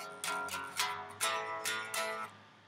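Electric guitar playing a riff slowly, about six picked chords or note groups in a steady, measured rhythm, each ringing out clearly and alone with no talk.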